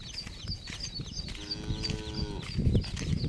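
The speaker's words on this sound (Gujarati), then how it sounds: "જો તમને ભાળે જો ઢોરે ગાંગરે જો" Cattle low in a single drawn-out moo, close and clear, over a busy background of outdoor rustle and other farm sounds.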